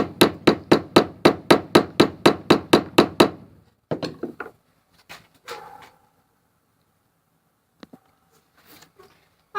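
Mallet tapping a handmade wooden nut in a brisk, even run of about fourteen sharp, loud wooden knocks, followed by a few scattered softer taps and clatters before the clip falls quiet.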